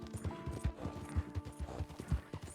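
Horse hooves clip-clop in Red Dead Redemption 2, a quick, even walking rhythm of soft thuds heard close and moderately quiet.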